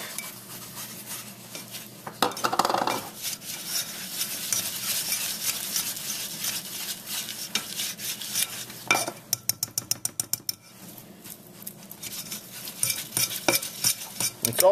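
Flour being stirred into melted fat for a roux for scalloped potatoes, with continuous close scraping and whisking against a pot, a soft sizzle underneath and a burst of quick rhythmic clinks near the end, no talking.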